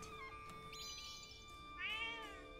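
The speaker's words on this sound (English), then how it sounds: "Oh, a cat." A cat in The Legend of Zelda: Echoes of Wisdom gives two meows, a short high call followed by a longer rising and falling one, heard clearly over a soft steady game music background.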